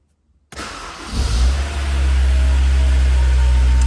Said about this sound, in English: And that is a lovely sound. A 2-litre 4-cylinder engine, smooth and powerful.